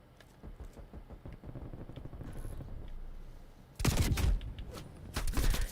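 Shotgun blasts in Call of Duty Black Ops Cold War, a few loud booming shots in the last seconds following quieter in-game movement and distant gunfire.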